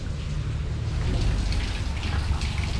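Rain falls steadily outside a truck, a constant wash of patter with a deep rumbling undertone, fairly loud and continuous with no voices.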